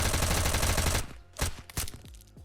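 Burst of gunfire from bandits in the survival game Surroundead, a dense rapid volley for the first second, then a few sharp separate shots that ring out and decay, fairly loud and with no talk.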